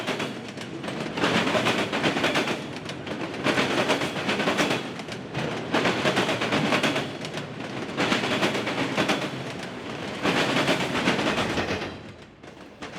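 A freight train hauled by General Electric locomotives rolls by, a loud, rhythmic clatter of wheels over rail joints repeating in bursts roughly every two seconds, then easing off near the end with no talk.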